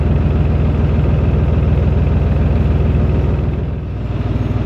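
A canal boat engine idles with a steady low throbbing chug, close and continuous, dipping briefly near the end.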